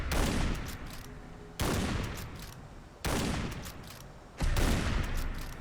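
Four heavy anti-materiel rifle shots boom in Fallout 4, each a sharp loud blast with a long decaying tail, spaced about a second and a half apart.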